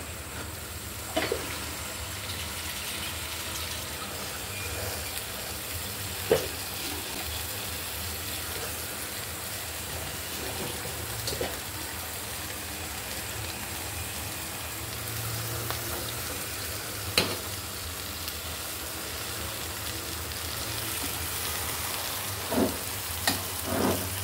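Telakucha greens sizzle and fry in a pan with shrimp, potato and lentils, a dense steady crackle with occasional louder pops and stirring scrapes throughout.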